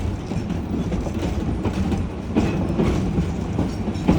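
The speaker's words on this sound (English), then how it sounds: "What you're riding on today is what we call a narrow gauge railroad." A narrow gauge railroad train at Yosemite Mountain Sugar Pine Railroad rolls along its rails with a continuous rumbling clatter and rhythmic clicks from the wheels, heard up close with no talk.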